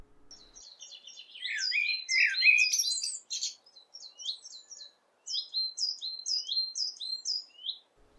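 Several songbirds sing in quick, high chirping phrases, a dense burst of overlapping calls followed by a pause and then a steadier run of repeated notes, fairly close and clear with no talking.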